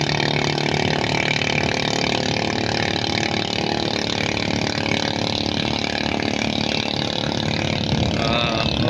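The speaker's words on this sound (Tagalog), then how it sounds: "Kanyang makina pala mga idol, 20 kabalyos na Yamaha, high speed." A 20 horsepower Yamaha outboard boat engine runs at high speed, a steady loud drone that continues unbroken and close throughout.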